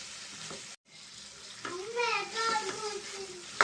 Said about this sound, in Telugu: ఈ మొత్తం చిక్కుడుకాయలు కలిసేంత వరకు కలుపుకుందామండి.